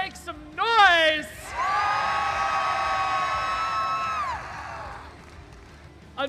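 Crowd of Blue Alliance supporters at a robotics competition whooping, yelling and cheering in a sustained loud roar after a brief shout, fading out toward the end.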